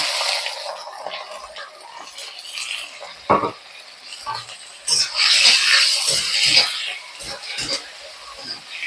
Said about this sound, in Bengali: এবার পেঁয়াজ কুচিটা দিয়ে দেবো।